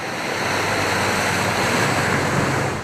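Floodwater rushes as a torrent through a local football club in Strathfield, a loud, steady broadband roar without breaks, close and alone.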